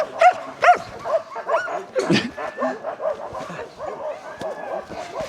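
A dog gives a few short yips and barks, mixed with whimpering, as people talk close by.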